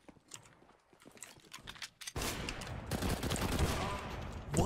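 Gunfire in Counter-Strike: Global Offensive. Scattered shots and clatter come first, then a dense, loud burst of rapid fire and game noise that keeps going to the end.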